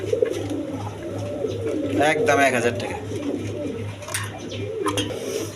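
Rasgolla pigeons coo softly with low, repeated throaty calls in the background, while someone talks over them at close range.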